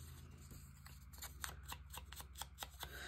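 Scissors snipping small pieces of paper for a Halloween-themed collage, a quick run of crisp, quiet cuts that grows denser toward the end, close up over a low steady hum.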